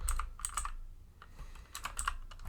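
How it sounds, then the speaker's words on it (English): Fingers tap keys on a computer keyboard in two short bursts of quick clicks separated by a brief pause, close and quiet, with no talking. "So we can just type in their ATA number, press enter"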